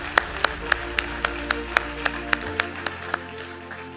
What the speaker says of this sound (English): Can we give him some applause,